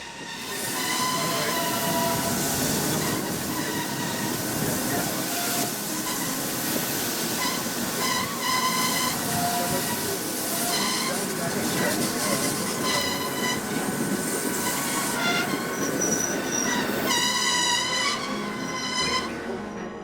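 The Bernina Express rolls slowly downhill toward Italy on a line without a central rack rail, its wheels squealing in shrill, shifting tones over a steady rumble of rail cars that stays loud throughout.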